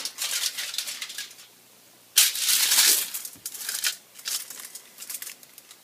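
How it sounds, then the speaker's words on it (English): Aluminum foil being laid out on a work surface for glass etching, with a steady run of crisp crinkling and crackling, a brief pause, then a loud burst of crumpling before softer rustles continue close up. "You will put on your gloves and lay out some aluminum foil."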